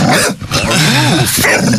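Voice imitating a dog barking, a short growly bark-like call of about a second and a half, loud and close to the microphone.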